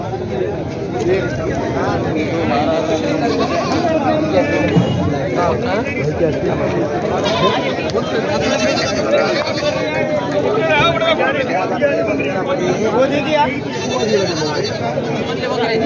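Sheep and goats bleating repeatedly at a large outdoor sheep and goat market in Maharashtra, with the calls rising over a constant crowd hubbub and nearby chatter.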